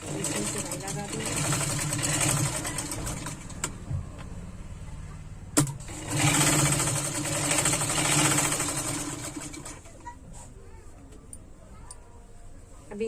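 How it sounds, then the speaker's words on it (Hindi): Sewing machine stitching lehenga fabric, giving a steady, rapid mechanical whirring and clatter that runs continuously up close, pausing briefly with a sharp knock before starting up again and slowing toward the end. "इसमें सिलाई लगा देंगे।"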